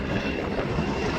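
A PZL W-3A Sokol helicopter roars steadily and loudly as it flies close past the crowd at an airshow display, with a broad continuous engine and rotor noise.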